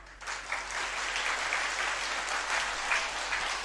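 An audience at a spiritual gathering claps together in steady, dense applause that begins abruptly and holds at an even level throughout.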